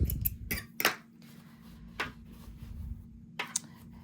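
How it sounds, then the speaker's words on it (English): Scissors snipping sewing thread during quilting, a handful of short, crisp cuts close by with quiet pauses between them. "Lift up my needle, cut my thread."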